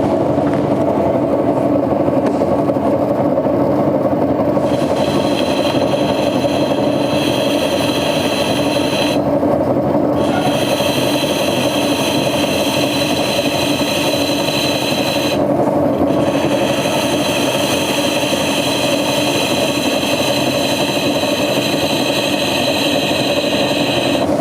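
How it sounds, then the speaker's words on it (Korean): A plaster mold for slip casting is carved down by hand, trimmed to fit a profile: a steady, continuous scraping and rasping runs close up throughout with no pauses, and no voices. "조금만 더 깎아 보도록 하겠습니다."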